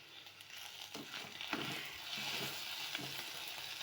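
Fennel seeds sizzle in boiling oil, a steady bright crackling hiss that swells a little midway and carries on evenly, close and alone with no talk.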